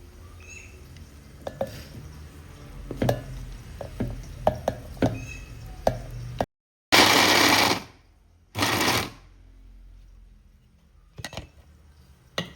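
A mixer grinder runs in short bursts, coarsely grinding boiled snails for a snail gravy, two loud whirring pulses after some clattering and handling sounds.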